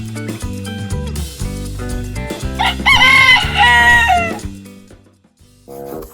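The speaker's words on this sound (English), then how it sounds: "Rooster." A loud rooster crows once over upbeat background music, its long cock-a-doodle-doo rising and falling before the music briefly drops out.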